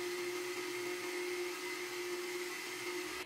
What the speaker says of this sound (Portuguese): agora que a gente já bateu no liquidificador a massa do bolo de fubá